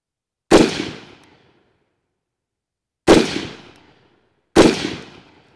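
Three loud rifle gunshots at an outdoor shooting range, each a sharp crack with a short decaying echo, the first alone and the last two closer together, with near silence between shots.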